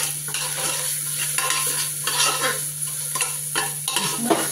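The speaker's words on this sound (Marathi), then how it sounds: "लगेच कांदा टाकते कारण फोडणी खचकायला लागली." Chopped onion goes into a sizzling tempering with curry leaves in a pan, a loud, close, continuous frying hiss with stirring scrapes and clinks, and a steady hum beneath it.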